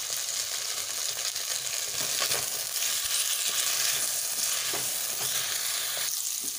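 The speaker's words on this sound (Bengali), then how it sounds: "তো আমার ফুলকপি গুলো ভাজা হয়ে গিয়েছে" Cauliflower pieces seasoned with salt and turmeric fry in a pan, giving a continuous close sizzle with soft stirring noises and no talking.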